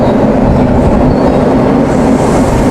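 Tokyo subway train pulling into Tsukishima station, a steady loud rumble of wheels and car noise with a low hum throughout and no speech.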